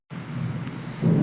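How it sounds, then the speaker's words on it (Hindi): Thunder rumbles through steady heavy rain during the rainy season, a low continuous roll that swells louder near the end, with no voices. "बादलों की आवाज़ आपको सुनाई दे रही होंगी"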